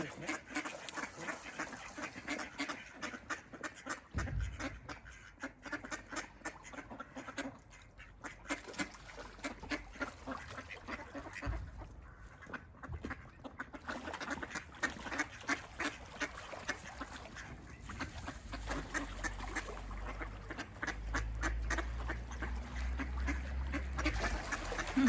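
A crowd of ducks quacking continuously, many overlapping calls close by, with low rumbling background noise and scattered honks.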